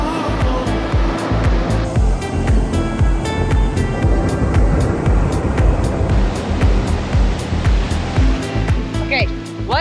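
Ocean surf on a Florida nude beach, a loud, steady wash of breaking waves that fills the whole stretch, close by and with no lull.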